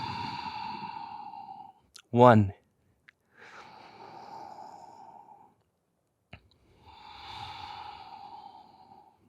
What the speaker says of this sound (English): breathing through your nose with sound